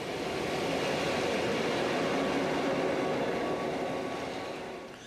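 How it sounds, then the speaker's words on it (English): A Belgian diesel locomotive hauls an engineer's train on the Athos-Meuse line, its steady rumbling roar and rolling wheel noise holding loud and close throughout before easing slightly at the end. "such as this engineer's train on the Athos-Meuse line"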